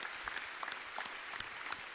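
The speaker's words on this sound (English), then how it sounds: "Lots of applause from the audience" Audience applause at a high school Veterans Day program honoring service members, a continuous soft wash of many clapping hands, fairly faint and distant.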